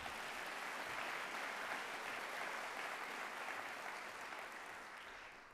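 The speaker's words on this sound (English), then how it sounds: "Applause." Steady applause from a large crowd at a university convocation, a dense wash of clapping that holds for several seconds and tapers slightly at the end.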